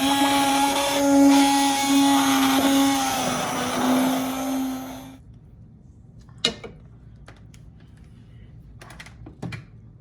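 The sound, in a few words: immersion blender blending soup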